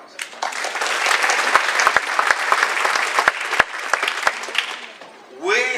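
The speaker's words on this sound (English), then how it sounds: "so you get two rounds of applause" Commencement ceremony crowd applauding, a sustained roll of clapping with sharp individual claps standing out near the mic, fading as a voice begins speaking at the very end.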